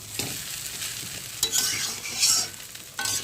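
Chow mein with scattered cabbage leaves is stirred in a hot pan, a steady sizzle broken by several sharp scraping and tossing bursts of the utensil, close up and with no talking.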